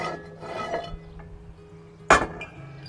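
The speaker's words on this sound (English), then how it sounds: "So I'll take the skillet out next." A hot cast-iron skillet is pulled out and handled, giving one sharp metallic clank against a quiet kitchen background with a few softer knocks before it.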